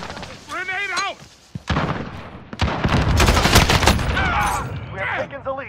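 Multiplayer Call of Duty combat with a grenade blast and gunfire. A loud burst of shots and a heavy explosion rumble continuously at close range, and voices shout over the battle noise.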